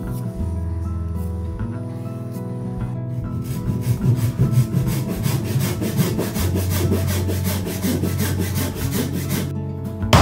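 Hand saw cutting a notch across a wooden board for a dado joint in a traditional Japanese tokonoma alcove build, steady rapid back-and-forth strokes, close and fairly loud, continuing throughout with no talking.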